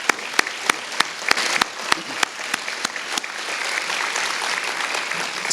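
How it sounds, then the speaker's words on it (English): Audience at a youth health awards event applauding its sponsors, a lively crowd of clapping with distinct sharp individual claps standing out early, steady and close for several seconds. "Let's give a round of applause to all of our sponsors tonight."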